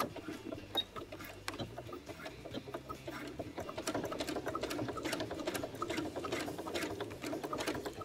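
A sewing machine stitches a replacement zipper into jeans, a fast, steady mechanical patter of needle strokes, soft and close, running continuously.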